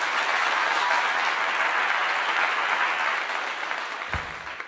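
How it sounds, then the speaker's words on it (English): A steady round of applause from a crowd at a live show, dense and even, fading slightly toward the end and cut by a brief low thump. "Round of applause for that."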